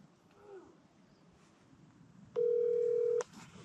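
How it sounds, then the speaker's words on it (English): A steady telephone line tone sounds for under a second while calling about a concrete footing pour, loud and alone after a quiet stretch of faint background noise. "Answer the phone."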